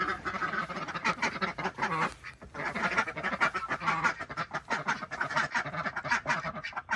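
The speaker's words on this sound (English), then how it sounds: "Ducks are crazy." A dense, noisy chorus of many ducks quacking at once, continuous and loud for the whole stretch, close by.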